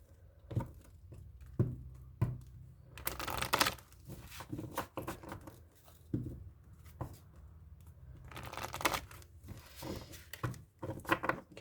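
A deck of oracle cards being shuffled by hand, giving soft irregular riffles and slaps in scattered bursts, with two longer flurries and quiet gaps between them.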